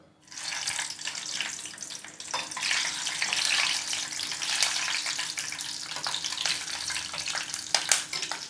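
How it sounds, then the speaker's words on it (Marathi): Green chillies fry in hot oil after onion bhaji, a bright hissing sizzle that swells steadily and stays dense and close, with no one talking. "थोड्याशा मिरच्या आपण तळून घेणार आहोत"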